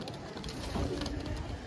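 A pigeon in a breeder's coop gives a soft, low coo, faint and close, in a short, quiet burst.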